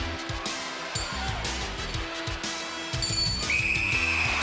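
A referee's whistle sounds at the end of a 1993 UK Gladiators event, a sharp high blast rising over crowd noise and commentary.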